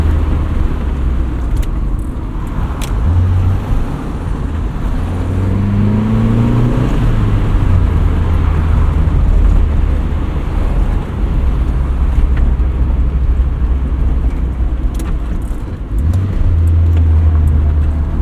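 A 1979 first-generation Honda Prelude engine pulls steadily while driving, its note rising and falling through the revs over a continuous low drone of road and wind noise, loud and close throughout.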